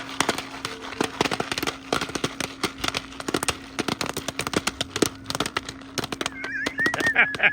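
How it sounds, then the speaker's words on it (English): Rapid, irregular pops crackle in quick bursts as popcorn bursts over a campfire at Higley Flow State Park, New York, under a steady low hum, with a brief whistling squeak near the end. "Popcorn explosion going on."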